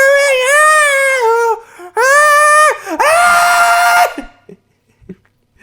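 A voice imitates the strained scream-singing of modern pop singers, belting three long, wavering, high-pitched wails in close succession, loud and close, then trailing off into faint breaths.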